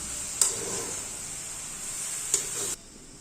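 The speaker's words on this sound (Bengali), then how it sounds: "জলটা দিয়ে একটু নাড়াচাড়া দিয়ে দেবো।" Maggi noodles get stirred in a pan just after water goes in: a steady sizzling hiss with two sharp scraping strokes before it cuts off abruptly near the end.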